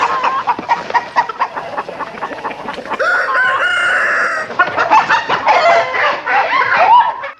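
Chickens cluck in a chicken coop, with a rooster crowing loudly midway. The clucks are close and clear with no talking.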